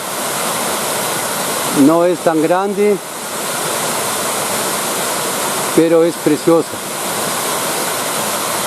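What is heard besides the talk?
small waterfall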